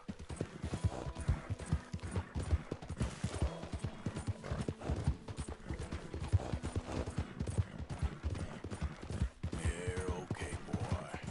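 Horse hooves clip-clopping in the video game Red Dead Redemption 2, a quick irregular run of hoofbeats under game sounds, with brief background voices.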